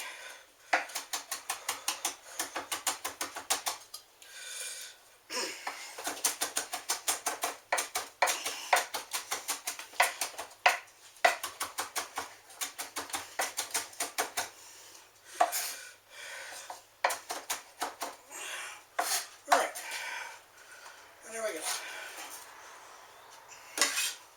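A kitchen knife chops on a board while making shepherd's pie, with rapid, steady clicking strokes in long bursts and short pauses, close and crisp.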